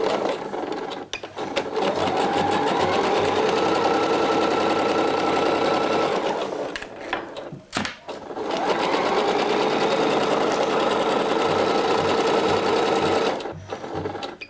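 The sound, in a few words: serger overlocking a seam on a blouse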